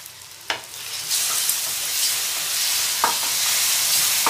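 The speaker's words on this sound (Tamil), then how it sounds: "வெங்காயம் தக்காளி நல்லா ஃப்ரை ஆகிடுச்சு." Onion and tomato frying in a pan, with a lid or utensil knock near the start, then a steady loud sizzle that swells as the pan opens, plus an occasional stirring clink.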